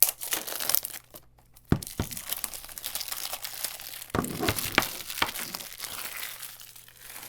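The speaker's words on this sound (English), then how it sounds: "So let's just break open the 5 pack and unravel" Plastic wrapping on a 1992 Maxell cassette tape five-pack crinkles and tears open up close, with crackling bursts and sharp rips scattered through the handling and no talking.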